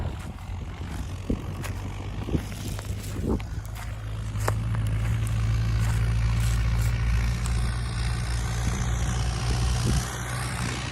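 A tractor pulling a hydraulic water-filled roller-chopper across a dry, dusty field, its steady low engine drone close and continuous, swelling louder midway, with scattered rattles and knocks.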